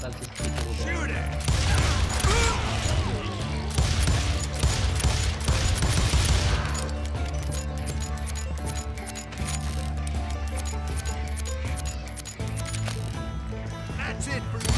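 Gunfire rings out in the Western shooter Call of Juarez: Gunslinger, dense bursts over the first seven seconds, then sparser mechanical clicks and shots over a steady backing score, loud and continuous.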